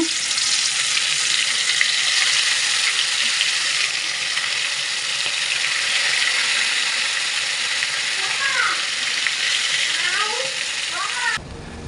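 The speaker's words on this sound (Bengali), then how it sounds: "এখানে আমি তেলাপুয়া মাছগুলো ভেজে নেব" Tilapia fish frying in hot oil, giving a continuous, fairly loud, close sizzle that runs throughout with only slight changes in level, plus a few faint clinks near the end.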